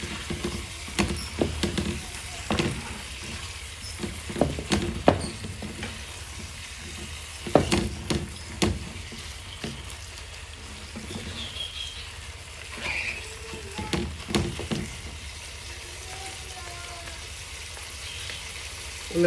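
Sausages frying in a pan for rougail saucisse are stirred, giving a steady close sizzle broken by irregular scraping and clattering strokes of the spoon throughout.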